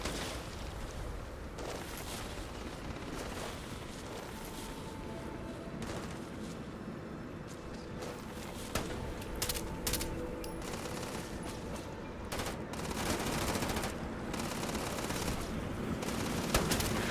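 Gunfire in the video game Starfield, with scattered sharp shots and bursts over a dense, steady background of game noise and music, growing more frequent toward the end.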